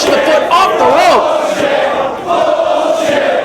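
A wrestling arena crowd roars and chants loudly and steadily, a dense wall of shouting voices with rising yells, as fans react to a contested match involving CM Punk.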